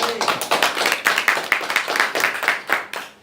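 A church congregation claps in unison to acclaim the Lord for mothers, with a close, loud, rhythmic burst of applause that fades near the end.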